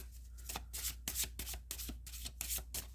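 Astrology cards being shuffled by hand, a rapid series of close, crisp riffling bursts over about three seconds with no talking.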